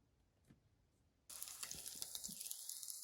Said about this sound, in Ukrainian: тепер печінкові оладки можна посмажити